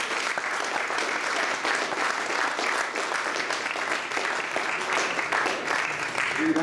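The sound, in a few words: audience applause at House of Commons event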